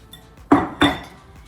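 Two sharp metallic taps of a whisk against the rim of a mixing bowl while baking a Nantucket cranberry pie, close and crisp, a short pause between them, with no talk.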